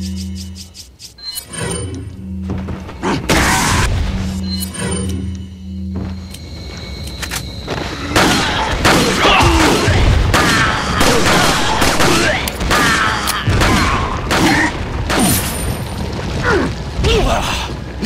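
Gunfire from the video game Resident Evil 4 crackles in a dense run of sharp shots and clanking mechanisms, loud and near, with brief gaps early and continuous bursts through the second half.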